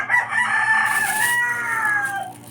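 A rooster crows loudly and close by in one long drawn-out call, with some clucking mixed in and no talk over it.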